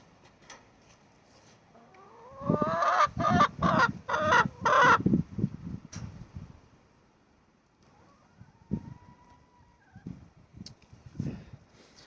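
Chickens cluck in a burst of loud, rapid, choppy calls, then quieter scattered clucks and squawks follow after a pause, heard up close with no talk.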